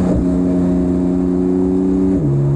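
A 900 hp 9ff-modified Porsche 992 Turbo S engine revs steadily at high pitch, loud and close, then drops sharply in tone near the end as it settles lower.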